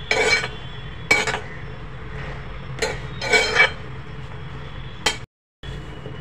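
Green chana chaat ingredients with lemon and salt being mixed in a bowl, giving several clinking, scraping bursts of a spoon against the dish spread across the stretch, close and fairly loud with quiet gaps between.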